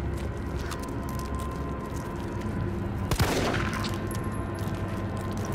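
Gunfire in the Resident Evil 3 Remake demo, a loud close shot or burst standing out midway over a continuous bed of game ambience and music.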